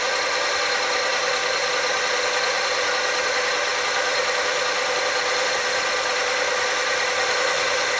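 A Logan 210 lathe cuts stainless steel with a steady, loud, continuous whirring hiss that holds unchanged throughout, close by and with no voices.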